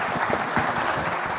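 A live audience at a talk event breaks into dense, steady applause, a full wash of many hands clapping together at close range with no voices on top.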